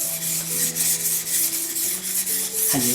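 A kitchen knife is drawn repeatedly across a 600-grit whetstone, giving a continuous close gritty rasping scrape with steady back-and-forth strokes and a sharper scrape at the end.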